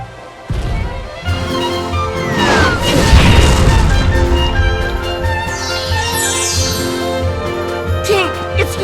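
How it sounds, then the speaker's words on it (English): Cannon fire from a ship on the water in Kingdom Hearts Birth by Sleep: loud booming crashes that start abruptly and roll into a sustained rumble with game music, with a voice briefly heard. "cannon fire? Where's it coming from?"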